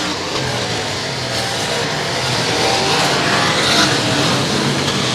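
Limited modified race cars roaring around a dirt speedway at night, a loud continuous engine drone that swells as the cars power through the turn, heard alone without talk.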